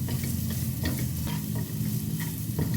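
Shallots and onion stir-fry in about two tablespoons of oil in a home kitchen pan, a steady close sizzle with occasional scrapes and stirring clatter, no voices.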